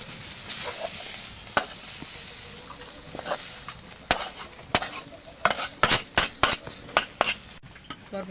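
A metal spatula stirs long beans frying in a wok over a low sizzle, scraping and clinking against the pan, with the knocks quickening into a rapid run of sharp taps toward the end.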